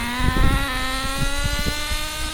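A Schumacher Rascal RC car with a PartCore S21 .21 nitro engine runs at a steady high-pitched buzzing whine, continuous and fairly close, with small rattling clicks underneath.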